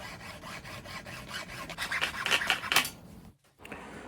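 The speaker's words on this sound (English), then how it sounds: "take a file and just clean up that edge so it looks nice" A hand file rasps along a freshly hacksawed plastic edge in quick, repeated back-and-forth strokes, close and fairly loud, stopping briefly near the end before one more short pass.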